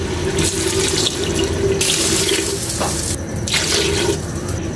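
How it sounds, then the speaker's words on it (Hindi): Tap water runs steadily into a cooking pot of tinda gosht gravy, a continuous splashing stream with a few brief shifts in flow as the pot fills. "तो पानी डाल दूंगी।"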